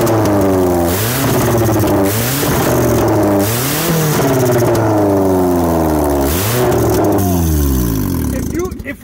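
A Kia with a 5-speed gearbox starts and revs hard, its engine climbing and dropping in repeated loud, close pitch sweeps for several seconds before cutting off.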